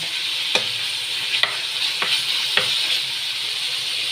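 Ground meat fries in a pan with a steady, bright sizzle while a utensil stirs it, giving a handful of light scrapes and taps over the hiss, close by.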